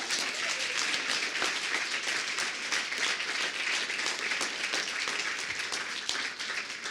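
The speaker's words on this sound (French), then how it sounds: "Je crois qu'on peut encore les applaudir, on vient de vivre un grand moment." Sustained audience applause fills a hall after a master class on the Valérie Bacot case, a dense, steady wash of clapping with no pauses, carrying on evenly from start to finish.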